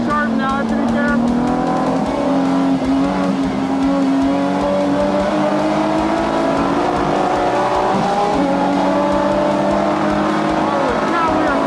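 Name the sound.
"Poor Man's Lotus" car cornering sharply at speed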